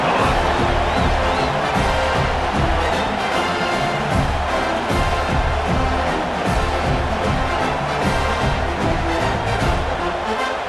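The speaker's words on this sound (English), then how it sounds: "this crowd is feeling themselves after that last drive" A stadium crowd at a college football game, USC Trojans hosting Missouri State Bears, roars steadily after an extra point, a dense, loud wash of cheering and shouting that holds throughout without a break.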